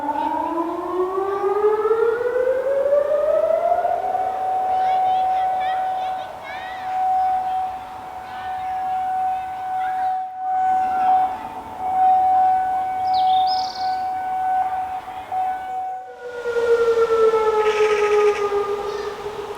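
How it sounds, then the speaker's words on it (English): Severn-side warning sirens near Avonmouth, Bristol, alerting to possible dangerous-substance incidents: a steady wailing tone that rises, holds for long stretches with brief breaks, then falls, heard outdoors with faint birdsong. "It is the sound of the Severn-side sirens warning people of possible incidents involving dangerous substances in Avonmouth."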